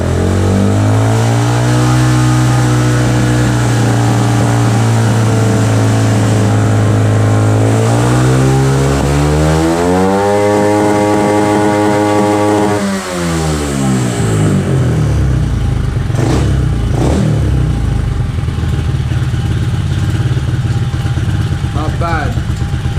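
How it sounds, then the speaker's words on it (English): A motor that is not fresh idles with a low, steady hum, then revs up loud and close to a higher pitch, holds, and drops back down before settling into a rougher running rumble. "I'll give it some rev. I'll rev it up now."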